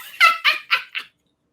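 A small dog gives four sharp, high-pitched barks in quick succession, close and loud, then falls silent.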